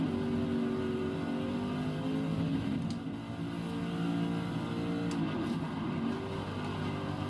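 Corvette GTLM race car in Forza Horizon 3 during a Hot Wheels championship race, its engine droning steadily at moderate distance with rising and falling revs, accompanied by the hum of other cars nearby.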